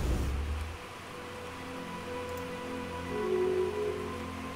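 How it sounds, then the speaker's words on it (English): Steady rain pours in a constant wash of noise, with a low hum underneath and no one speaking. "It is pouring rain out there."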